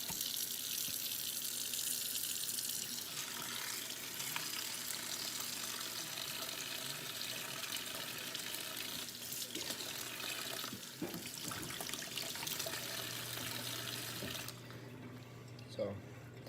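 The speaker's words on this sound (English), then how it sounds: "So you're just gonna rinse the meat, get all the blood out." A kitchen tap runs steadily while meat is rinsed under it, a faint, even hiss of flowing water that goes on throughout, with a low hum and quiet talk underneath.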